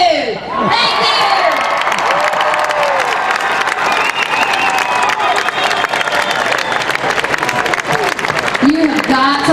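A large crowd at the 2016 Texas Rally for Life applauds loudly and steadily, with cheers and whoops scattered through the clapping and voices calling out over it.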